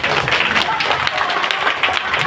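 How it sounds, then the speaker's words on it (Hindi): An audience at a political speech gives steady, dense clapping that fills the whole stretch, loud and close with no break. "अब आप ताली बजा दिए"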